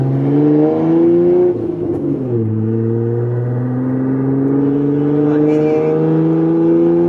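A 3.6L Jeep Wrangler Rubicon JL with muffler and resonator deleted accelerating, a loud, close, droning exhaust note that climbs steadily in pitch, drops briefly at a gear change, then climbs again under heavy throttle.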